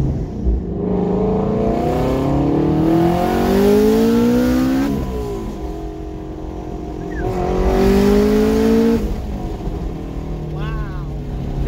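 Twin-turbocharged Ford Mustang GT350 running on E85 accelerating hard, its engine note climbing through repeated gear pulls with rising harmonic sweeps and loud, close exhaust roar; a person speaks briefly over it.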